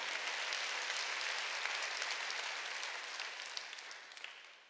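A church congregation claps together during a worship service, a broad, continuous wash of applause that holds steady and then slowly tapers off.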